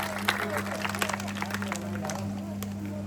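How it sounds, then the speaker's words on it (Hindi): Audience applause at a Women's Day event, a scattered patter of clapping under a steady electrical hum, with a voice talking over part of it. "एक बार जोरदार तालियां मैम के लिए।"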